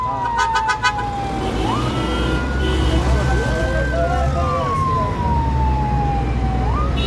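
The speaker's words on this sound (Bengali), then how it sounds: "আমাদের পিছনে ফায়ার সার্ভিসের গাড়ি" A fire service truck's siren wails close by in traffic on a Riyadh street, a long rising and falling tone sweeping across several seconds over steady road and engine rumble.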